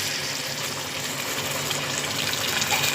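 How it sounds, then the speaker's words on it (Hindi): Milk, a single cup, pours steadily into a pot on the stove while making sweet mattanjan rice, a continuous gushing liquid stream close by with faint kitchen background. "इसमें अब हम ये 1 कप जो दूध दिया था वो भी ऐड कर रहे हैं"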